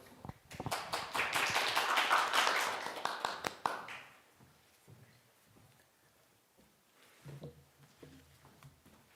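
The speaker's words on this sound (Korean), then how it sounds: "박수로 맞이해 주십시오." A lecture audience at an academic presentation on diplomacy applauds to welcome a professor, brisk clapping that peaks over the first few seconds and fades out near four seconds, followed by quiet room noise and a few soft knocks.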